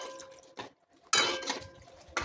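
A utensil stirs besan mixture into boiling water in a pot for kadhi, giving a few separate scraping clinks against the pot with short gaps of quiet between them.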